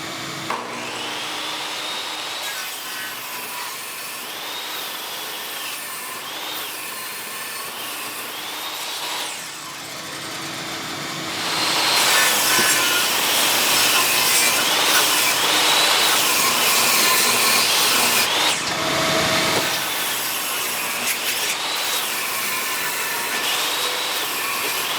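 A power saw cuts through 2x4 lumber in a woodworking shop, a loud continuous whining drone that runs at lower level first, dips, then surges louder for the latter half, close up with no voices.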